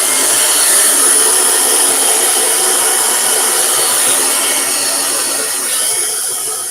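A hair dryer on its heat setting blowing steadily on a wig, a loud, close, continuous airy roar with a high whine that holds even throughout, no voices.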